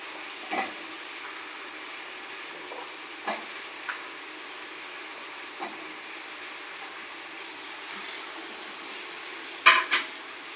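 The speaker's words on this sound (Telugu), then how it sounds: "క్యారెట్లు ఫ్రై అవటానికి ఉడకడానికి టైం పడుతుంది" Carrots and potatoes frying in a pan: a steady, even sizzle throughout, broken by a few soft clinks and scrapes of stirring, with a sharper utensil knock near the end.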